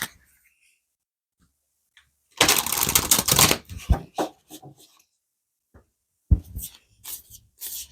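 Oracle cards shuffled by hand in a tarot reading, a dense papery riffle of about a second and a half, then scattered softer rubs, taps and brief card flicks, close and alone with no talk.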